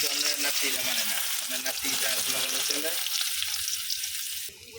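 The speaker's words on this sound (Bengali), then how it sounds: "তো আমি মাছ ভাজার তেলের মধ্যে দিচ্ছি" A spice paste sizzles hard as it hits hot oil left from frying fish. Loud, hissing frying runs throughout, and a voice murmurs over the first few seconds before the sizzle continues alone and then fades slightly at the end.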